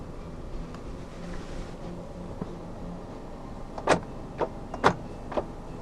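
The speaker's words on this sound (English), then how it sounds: "this car does have power folding mirrors" A Mercedes-Benz SLK 200 folds its power mirrors, giving a few short whirring motor bursts near the end over a quiet cabin hum.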